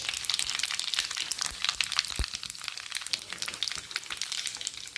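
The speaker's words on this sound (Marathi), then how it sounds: "तेल चांगलं तापलेलं आहे आता आपण याचे एक चमचा मोहरी टाकते एक चमचा जिरं" Mustard seeds and cumin crackling in hot oil, a dense, bright, steady sizzle with rapid popping spatters throughout and one dull knock partway through, close and continuous with no talking.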